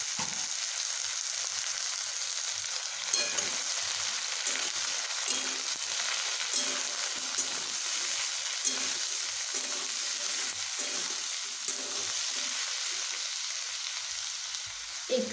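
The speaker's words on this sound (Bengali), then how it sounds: "তেল আমার গরম হয়ে গেছে। এখানে আমি কেটে রাখা এই লাউগুলোকে ভেজে নেব।" Chopped bottle gourd fries in hot oil, giving a steady, close, crackling sizzle throughout with occasional stirring scrapes and no talking.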